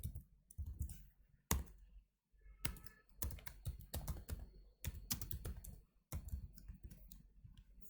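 Computer keyboard clatters with Python code being typed, close and fairly quiet, in irregular bursts of rapid keystrokes broken by short pauses, with no voices.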